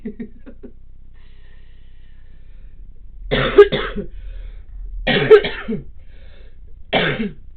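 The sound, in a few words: coughing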